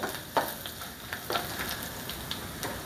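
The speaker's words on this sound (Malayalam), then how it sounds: "കറിവേപ്പില ഇട്ട് കൊടുത്ത് അതൊന്ന് മൂത്ത് കഴിയുമ്പോൾ" Washed curry leaves frying in oil for pineapple pulissery, a short burst of crackling sizzle with a few sharp pops and stirring scrapes, no voices.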